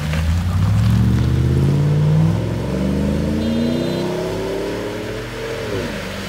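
A 2007 Chevy Tahoe Z71 with a new 5.3 engine and MagnaFlow dual exhaust revs loudly up and down nearby, a deep rumbling note rising in pitch, easing off, then climbing again.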